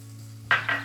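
Ginger and tomato hitting a hot pan with a quick close sizzle and clatter, two short bursts over a steady low hum.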